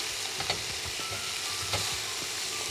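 Chicken masala chop filling frying in a pan, a continuous dense sizzle with a few faint scrapes from stirring, steady and close, no speech.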